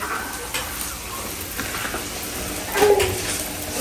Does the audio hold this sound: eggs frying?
yes